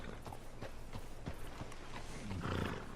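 A horse approaches in the video game Red Dead Redemption 2, its hooves clopping in a steady gait that grows louder and nearer, ending in a short snort or whinny.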